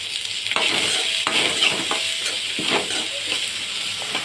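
Ingredients for sambar roasting in a pan over a low flame, giving a steady close sizzle broken by scraping stirs of a spoon against the pan.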